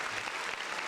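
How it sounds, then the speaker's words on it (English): A brief round of applause, dense steady clapping from a group at moderate level, continuous for a moment. "Round of applause."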